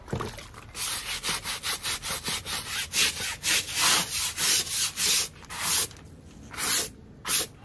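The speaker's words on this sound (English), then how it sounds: "I feel like I'm scrubbing to get this blue stuff off." Rhythmic, loud scrubbing strokes on a thermal van window shade to remove blue residue, a steady back-and-forth rasp repeated about twenty times close to the microphone, with no talking.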